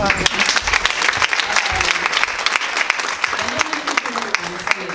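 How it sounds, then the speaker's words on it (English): Audience clapping at an interactive session in New York, lively and irregular with sharp individual claps standing out from the dense crowd, fairly close and loud throughout. "I think we should clap."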